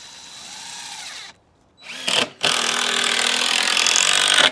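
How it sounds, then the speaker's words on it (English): A power drill whirs loudly into wooden stock tank pool deck boards in two bursts, a brief spin-up, a pause, then a long continuous drilling run, close up. "we're drilling into the top"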